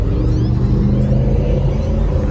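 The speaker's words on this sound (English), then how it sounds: "They got the HEMI right here." A HEMI V8 car engine idles with a deep, steady rumble at an outdoor car meet, loud and close, holding an even low drone with no clear revs.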